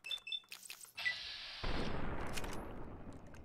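Gunfire in Fallout New Vegas: a few sharp shots up front, then a dense, roaring burst of rapid fire or explosion that rumbles on loudly to the end.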